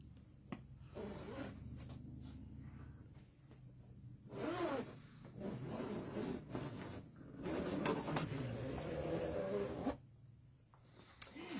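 Zippers being pulled closed on a longarm quilting machine's fabric leaders, several raspy zipping strokes in bursts of varying length, close by, with brief quiet gaps between.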